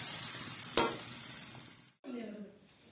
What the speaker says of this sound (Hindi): गंदलों वाला साग देसी घी में